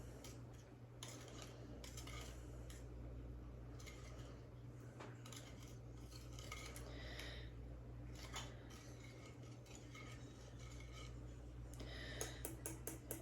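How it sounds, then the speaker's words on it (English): A spoon stirs a pan dulce yeast mixture in a bowl, giving a steady run of soft ticking scrapes and clinks over a constant low hum and background noise, with brighter taps near the end. "you're going to want to stir in a clockwise motion"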